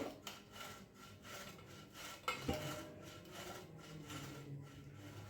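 Boiled potatoes grated by hand in a kitchen, a soft rhythmic scraping and rasping with a few light clinks of utensils, fairly quiet and close, with no talking.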